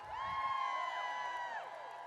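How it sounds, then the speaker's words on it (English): Audience at a women's empowerment event held live at the Supreme Court applauding and cheering a speaker, a dense continuous burst of clapping with whoops, starting after a brief voice and fading slightly at the end. "Round of applause for an amazing woman."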